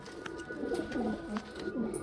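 Highflyer pigeons coo softly in low, repeated throaty phrases, close by against a steady faint background hum.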